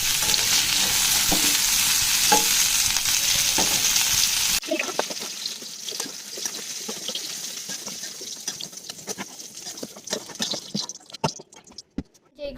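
Potatoes frying in oil in a kadai pan, a steady loud sizzle at first that drops to lighter crackling and spattering with scattered pops and stirring scrapes, fading out at the end.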